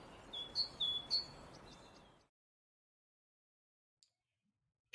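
Birds chirp in a few short, high tweets over a soft background hiss, then everything drops to near silence before a sudden sound at the very end.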